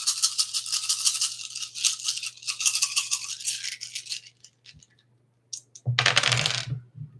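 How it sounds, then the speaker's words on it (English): Dice rattle and tumble across a surface in a long, busy clatter of many small hard clicks, then go quiet before a brief louder rattle near the end. "I got the dice here. We're gonna go dice one more time for Candace Owens."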